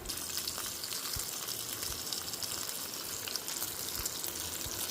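Pieces of taro root (chamadumpa) frying in hot oil give a steady, dense sizzle with soft crackling throughout, close and moderately loud, with no voices.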